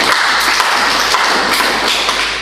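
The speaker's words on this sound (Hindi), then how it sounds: "ताली बजा दो इसके लिए" An audience at a spiritual talk applauds a boy with dense, even clapping that holds steady throughout and fades slightly at the end, with no voices over it.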